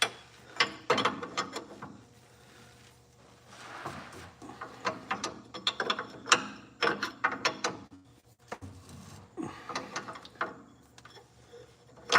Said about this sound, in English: Adjusting the coilovers.